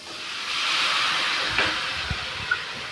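Green onions and spices roasting in a pan give off a steady, soft broadband hiss with a few faint clicks and pops near the end; no voices.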